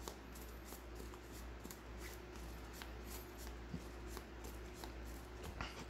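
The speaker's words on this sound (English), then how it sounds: "let's just shuffle up and cut and show some more." Soft, continuous shuffling of playing cards with faint papery riffles and taps, quiet and close, no voices.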